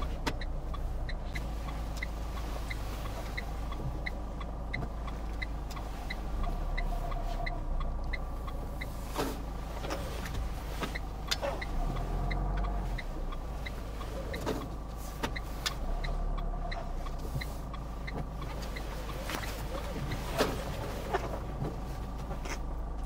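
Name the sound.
car reversing during parallel parking in driving test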